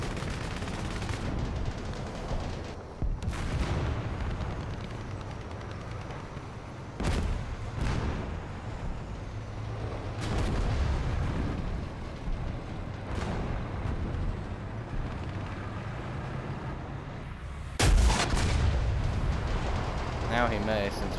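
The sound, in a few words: tank cannon fire in the video game War Thunder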